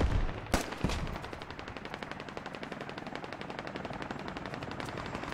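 Rapid HK rifle fire in a military shooter set in an Afghan canyon, a fast continuous rattle of shots after a couple of sharp opening cracks, moderately distant and steady to the end.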